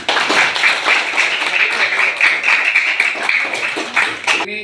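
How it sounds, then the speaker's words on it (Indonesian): Students in a classroom clap their hands together, a close, fairly loud run of quick, fairly regular claps that keeps going for several seconds without a break, then stops abruptly. "Alhamdulillah, tepuk tangan"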